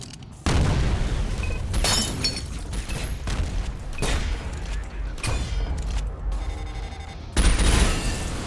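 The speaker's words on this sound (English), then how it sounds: "mortar right out the gate" A mortar fires and explodes in a video game, sharp booming blasts at irregular intervals with crackling debris and distant gunfire between them, loud and near, with no voices.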